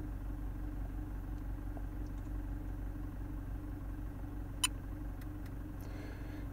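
Warm 2019 Toyota Prado 2.8 diesel engine idling, a steady low rumble with an even hum throughout, heard from nearby with one faint sharp click partway, no speech.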